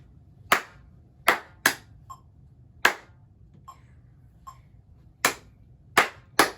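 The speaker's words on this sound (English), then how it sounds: "So now let's count and clap that one more time" Students in a music lesson clapping a counted rhythm together, sharp ensemble claps in a patterned sequence with a few softer taps between, clear and close against a quiet room.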